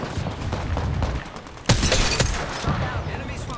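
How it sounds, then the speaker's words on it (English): Gunfire in the Apex Legends battle royale game, a dense run of shots with a sharp louder burst midway, mixed with game effects and voices talking over the action. "I'm getting shot at."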